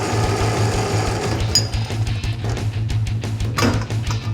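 Excess steel tubing is cut off while building new frame rails for a 1964 Comet, producing a loud, continuous, buzzing power-tool drone with a steady pulsing hum and occasional higher metallic squeals.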